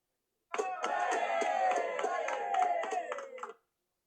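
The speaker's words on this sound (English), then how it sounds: "So let's say I just want some clapping." AI-generated clapping sound effect: about three seconds of clean, close applause with a slightly tonal, synthetic ring, starting and stopping abruptly against silence.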